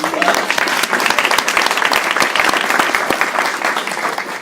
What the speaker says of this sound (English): So that deserves an applause.